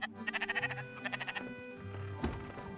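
Sheep bleating in the Spiritfarer video game, a quick series of wavering, nasal calls repeated close up, then a sustained bleat with game sounds underneath.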